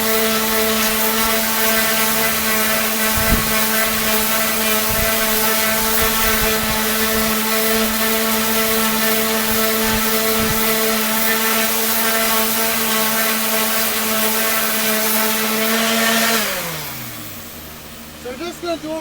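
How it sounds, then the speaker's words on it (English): A steady, loud power sander drones with a strong tonal hum for about sixteen seconds while side-sanding a 1926 DL&W metal rail, then winds down as its pitch drops and it stops. "I'm going to show you how to do a side sanding procedure"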